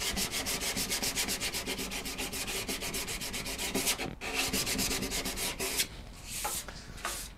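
Sandpaper scrubbing pore-filled ebony on acoustic guitar sides in quick, rhythmic strokes, close and loud, pausing briefly before slower, lighter passes at the end.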